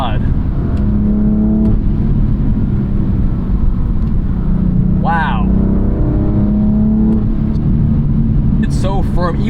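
A 2017 BMW M3 F80 accelerates hard, its engine droning loud and close with rising pitch sweeps as it shifts through gears, and people talking over it inside the cabin.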